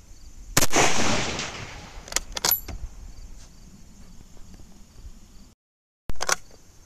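An 8mm Mauser rifle with iron sights fires at a 200-yard outdoor range: a loud close shot with a long rolling echo, a few metallic bolt clicks, then another sharp report.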